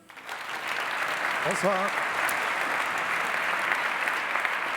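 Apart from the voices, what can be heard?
audience applause for a speaker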